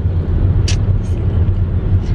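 A motorbike rides along with a steady low engine rumble, loud and close, with brief hissing bursts of passing traffic or wind over it.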